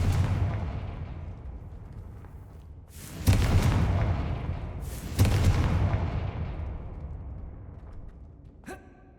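Confringo fire-spell blasts in Hogwarts Legacy: two loud, sudden explosive bursts a couple of seconds apart, each followed by a long fading rumble, then a short sharp hit near the end.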